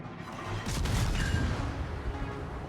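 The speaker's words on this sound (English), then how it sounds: "So let's go launch some torpedoes." Torpedoes launched from a warship in a naval combat video game, a loud sustained rush of explosive rumble and whooshing that swells after the first half second and holds steady to the end.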